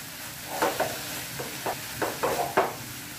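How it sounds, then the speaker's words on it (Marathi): A spoon stirs a cooked vegetable dish with crushed peanuts in a pan, making about eight short scraping strokes in an uneven rhythm over a faint, steady sizzle, close by with no talk. "आता याच्यामध्ये आपण शेंगदाण्याचं कूट टाकणार। व्यवस्थित मिक्स करून घ्यायचं।"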